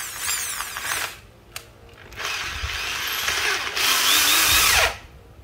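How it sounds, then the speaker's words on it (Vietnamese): A used Matex 13 mm two-function electric drill with a slightly dented head runs in several bursts, whining up to speed, stopping, then revving again louder and longer before cutting off, close and alone. "Số 14 một con khoan Matex đầu kẹp 13 ly hai chức năng nhá."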